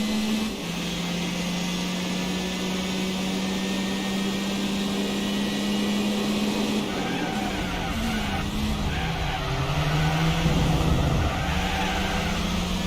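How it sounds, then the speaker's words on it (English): A racing car engine in Gran Turismo 4 drones at a steady pitch, then shifts and revs while tires screech, loud and continuous with no voices. "So now the car sounds different compared to a while ago."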